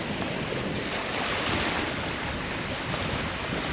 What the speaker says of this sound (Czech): Teď už jsou i vlny.